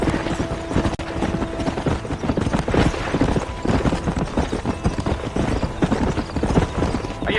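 Horse hooves clip-clopping in rhythmic, steady beats while ridden in Red Dead Redemption, loud and close with game ambience and faint mechanical clatter beneath.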